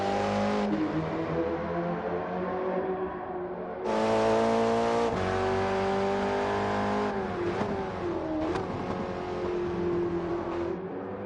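Porsche 917 race car engine in a racing video game, a loud continuous harmonic roar that rises and falls through gear changes, with a sharp surge in revs partway and a brief dip before climbing again.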